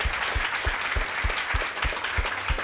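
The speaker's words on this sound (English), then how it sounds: "give our panellists here a big round of applause" Applause from the audience at a veganism panel discussion at a vegan festival in Brighton, moderately loud and steady, with some distinct claps standing out in a regular rhythm against the crowd's dense clapping.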